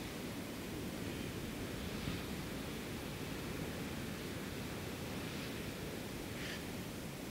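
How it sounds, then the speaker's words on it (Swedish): Sea waves break at the shore in a steady, broad roar of surf that fills the whole stretch evenly, with no voices. "när man står här vid havet så det är en sån otrolig kraft som havet förmedlar"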